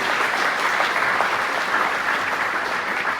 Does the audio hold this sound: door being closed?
no